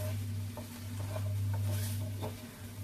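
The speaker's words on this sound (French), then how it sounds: "Je vais laisser tranquillement à feu moyen se dorer." Vegan kebab meat with sesame seeds fries in a pan over medium heat, giving a soft, steady sizzle with faint stirring taps, close but quiet beneath a constant low hum.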